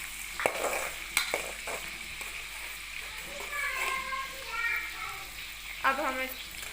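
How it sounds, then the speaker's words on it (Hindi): Onions going into hot oil and frying for a tinda dish, with sharp utensil clatters and a bubbling sizzle that rises and ripples, close by, while a voice talks over it. "अब हम प्याज डालेंगे क्योंकि हमारा ऑयल गर्म हो चुका है।"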